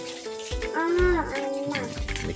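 Water is poured into a cooking pot to make a broth, a steady splashing rush close by, with a voice speaking over it.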